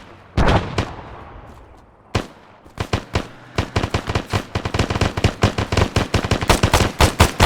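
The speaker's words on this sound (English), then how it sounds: "Contact, machine gun." Machine-gun fire in an Arma 3 battle: a few sharp shots, a pause, then dense rapid bursts of close, loud gunfire that keep building, with no voices.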